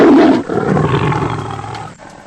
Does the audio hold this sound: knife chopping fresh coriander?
no